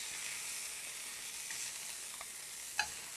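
Pork sausages sizzling in a hot pan after searing on both sides, a steady broad frying hiss with a few small pops and one sharper crackle near the end.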